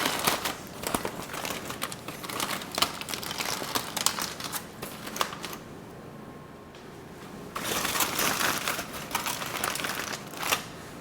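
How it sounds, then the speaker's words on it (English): Aluminum foil being peeled back and unwrapped from a tray of oven-baked ribs, giving steady close crinkling and crackling in two bursts with a quieter pause between them. "Let's unwrap these ribs."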